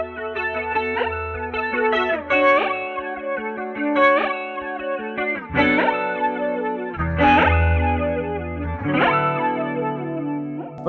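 An electric guitar runs through an Alexander Pedals F.13 NEO effects pedal in negative mode, giving a metallic, bizarre, distorted chorus tone as picked notes and chords ring out and decay in repeated phrases, close and without talk.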